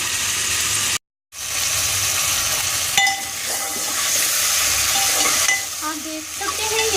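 Chicken pieces fry in a pan with ginger garlic paste toward golden brown, a loud continuous sizzle with stirring scrapes, briefly cut off once, then sputtering on.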